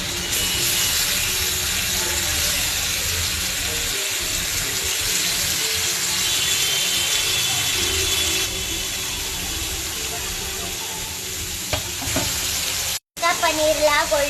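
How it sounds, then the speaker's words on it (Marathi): Paneer fries in butter with red chili, turmeric and cumin powder, giving a loud continuous sizzle with occasional stirring scrapes, ending in a brief cut and a burst of splashing. "आता त्यात पनीर फ्राय करून घेऊया"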